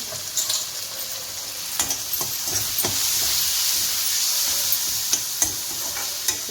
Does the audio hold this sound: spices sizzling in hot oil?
yes